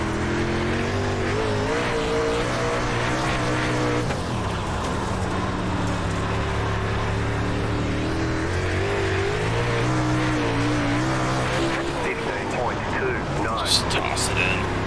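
A race car engine bogs on a dirt track in the iRacing video game, a loud continuous droning motor with wavering, strained pitch under steady tire and track noise, with a few sharp squeals near the end.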